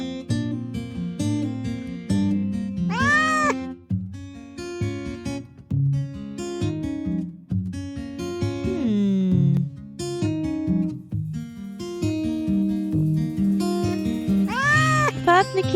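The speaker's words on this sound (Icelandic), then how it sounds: "Þarna kisa." A cat meows several times between bouncy children's music, the rising and falling cries standing out clearly near the start, middle and end, with speech present.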